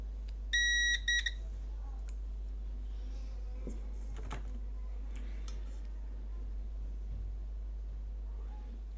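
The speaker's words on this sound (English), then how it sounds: "I don't know why it was beeping on both." A Bose SoundLink Revolve+ Bluetooth speaker with a charging problem gives a quick cluster of faint electronic beeps near the start, followed by quiet room hum and occasional small handling clicks.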